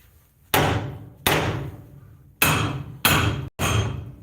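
A hammer bangs five times on a car's suspension parts near an upper control arm, each heavy metallic strike ringing out and fading, spaced unevenly by short pauses.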